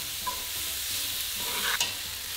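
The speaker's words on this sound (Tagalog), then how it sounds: "Ito yung bawang, sibuyas at luya na chinop natin kanina. Itutuloy ko lang ang pag-isa hanggang sa maging malambot na yung sibuyas." Chopped garlic, onion and ginger sauté in a pan, a steady close sizzle with scraping stir strokes and a sharper clatter near the end, no talking.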